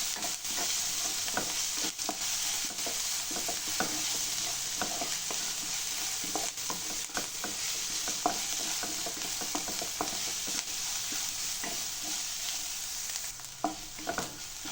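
Garlic cloves and curry leaves sauté in a pan, giving a steady dense sizzle throughout with frequent sharp scraping taps of a stirring spoon, close and alone with no talk.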